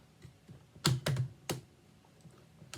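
Kamen Rider Saber DX King of Arthur WonderRide Book toy, a plastic book being opened and pressed, giving a quick cluster of sharp, close plastic clicks, roughly four distinct snaps within a second or so, with no talk.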